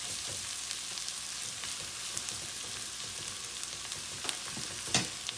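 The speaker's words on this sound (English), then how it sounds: "Keep sauteing the mix for a couple more minutes." Onion sautéed in a pan with a big scoop of ginger garlic paste, sizzling steadily with occasional stirring scrapes and clicks, close and alone without talk.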